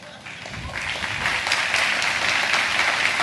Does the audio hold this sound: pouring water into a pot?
no